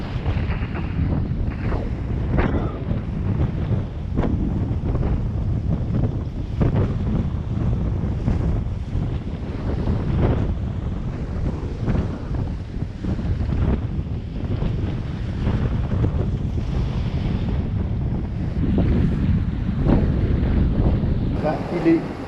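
Strong 22-knot wind at sea aboard a sailboat, a steady loud roar of gusts buffeting the microphone with waves and rushing water beneath, continuous throughout.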